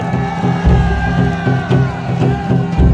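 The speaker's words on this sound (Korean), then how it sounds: "우리 기자분들 위해서 박수 한번 쳐주세요" Crowd at an outdoor street rally on asphalt cheering and clapping for reporters, a steady roar of voices with rhythmic shouts, fairly loud and spread out.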